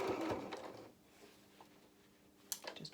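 Sewing machine slowly stitching a felt flower: a short faint whir of stitches at the start, then near-quiet with a few light clicks and taps as the fabric is adjusted.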